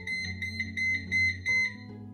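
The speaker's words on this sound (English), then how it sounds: "since the beeping is happening" A Jetson Sphere hoverboard gives a series of short, high electronic beeps in a steady repeating pattern, close and clear over a low background hum.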